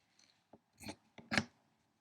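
Scissors snipping through a piece of fabric while trimming it for a crumb quilt block, heard as a few quiet, separate cutting strokes spaced apart, close by with no talking.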